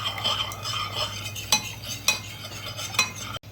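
A spoon stirs a donut batter of yeast, sugar, melted butter and eggs in a bowl: a steady wet swishing, with three sharp utensil clinks against the bowl standing out clearly.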